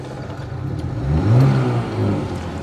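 A car engine near and loud, starting up and then revving in a rising surge before settling to a steady run, with no talk.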